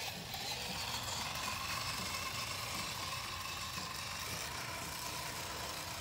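An LDRC dual-motor Unimog 1/12-scale RC truck crawls in low gear with all differentials locked, its electric motors giving a steady, close whine and rumble without pause.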